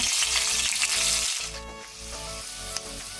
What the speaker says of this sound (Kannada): ಈಗ ನಾವು ಈರುಳ್ಳಿಯನ್ನು ಒಳ್ಳೆ ರೀತಿ ಫ್ರೈ ಮಾಡಬೇಕು, ಕಲರ್ ಚೇಂಜ್ ಆಗೋ ತನಕ